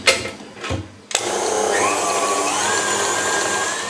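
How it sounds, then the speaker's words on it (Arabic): An electric mixer blending ice cream ingredients starts up after a few brief clatters and then whirs with a steady, loud motor whine until the end. "ملي كتخلط داك العناصر كامله كنحصلوا على واحد القوام بحال هكا كريمي رائع"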